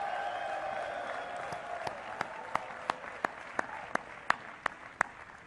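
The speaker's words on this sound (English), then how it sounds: "Graduates, give a big round of applause to your family for everything that they've done for you." Commencement crowd applauds graduates' families, a steady wash of clapping from a large audience with a few sharper, louder claps cutting through near the end.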